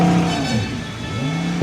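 Car engine revving through its exhaust, a continuous throaty tone that rises and falls in pitch in two swells, close and steady with no talking.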